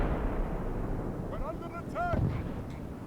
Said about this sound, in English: French are definitely winning this artillery fight.